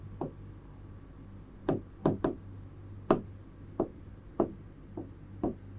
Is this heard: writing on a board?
yes